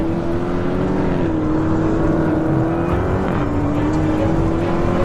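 A Corvette C8 and an 800 hp Dodge Demon race side by side, a loud, sustained engine drone holding a steady pitch with slight dips and rises as the cars pull, with no voices over it.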